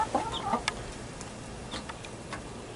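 Hens with their baby chicks cluck and peep in a short burst near the start, followed by quieter, scattered chick chirps over a steady low background.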